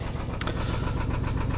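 A 2009 Subaru Forester engine idles in gear with a suspected rod knock, giving a steady low rumble with a faint repeating tick throughout and one brief sharper click near the start.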